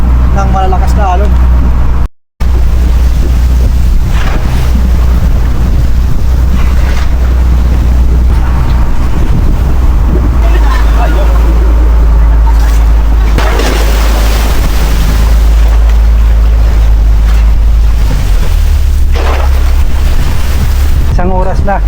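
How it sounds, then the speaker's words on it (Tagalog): A motor boat out at sea is pounded by strong waves, with heavy roaring wash, wind buffeting the microphone and a continuous engine drone running loud and close throughout. "para bang hinahampas yung aming sinasakyan ng malalakas na alon"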